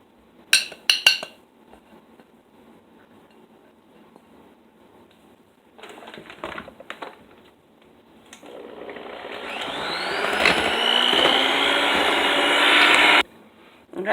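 Electric mixer blending keto chocolate chip cookie dough in a bowl: a few clinks, then a sharp whine that rises as the motor spins up, runs loud and steady, and cuts off abruptly.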